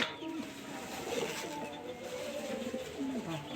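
Pigeons coo softly in a loft, low repeated calls rising and falling at moderate distance over a busy background hum.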